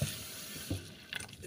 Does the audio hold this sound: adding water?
yes